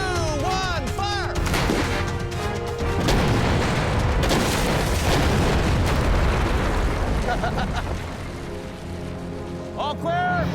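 Dynamite blast shattering boulders to clear a highway: a heavy booming explosion rolls on with dense rumbling debris for several seconds, with shouting voices before and after.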